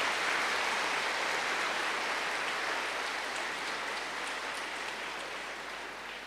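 An audience at a Hindi-language spiritual discourse claps steadily, a dense, even wash of many hands that slowly tapers toward the end, with no voices over it.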